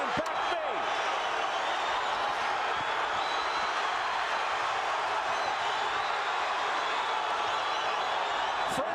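Boxing arena crowd at a Johnny Tapia vs. Paulie Ayala title fight, a loud, steady wash of cheering and roaring that holds without a break, with a few sharp claps and thumps on top.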